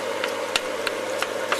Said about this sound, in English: Turn this darn fan off.